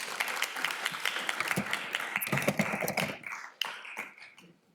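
Lecture-hall audience applauding in a university data structures class: a burst of scattered, uneven clapping that thins out and fades after a few seconds, with a few final claps.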